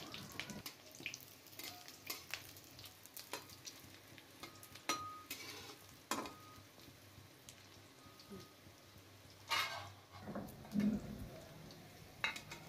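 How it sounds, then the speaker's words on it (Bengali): Fish roe fritters fry in a pan of oil for a Bengali fish-egg curry, giving a steady close sizzle with scattered utensil clicks and scrapes as they are turned, and no talking. "লাল লাল করে ভেজে নিতে হবে।"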